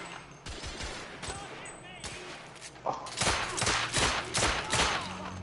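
Gunfire in The Order: 1886 starts as scattered shots, then erupts into a loud, dense volley of rapid overlapping shots, with speech mixed in.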